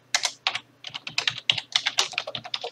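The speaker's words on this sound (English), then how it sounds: "Let me type that down." Code is typed on a computer keyboard in a quick, uneven run of close, crisp keystrokes, with a short pause after the first few and no voice over it.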